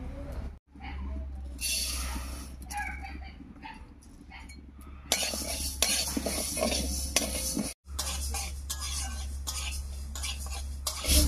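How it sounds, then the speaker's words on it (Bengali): Mung dal dry-roasting in an empty kadai on a lit stove while being stirred, with steady scraping and clinking of the spatula against the pan over a constant low hum, briefly dropping out twice. "এবারে শুকনো খোলায় মুগ ডালটা বেশ লাল লাল করে ভেজে নেব"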